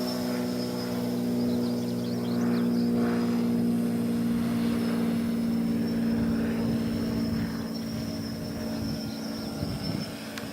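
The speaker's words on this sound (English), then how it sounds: "So let's go take it for a spin." A homemade box-frame quadcopter on its first flight after a new build, giving a steady buzzing propeller drone with a strong tonal hum that holds throughout, fairly close and loud, with no talking.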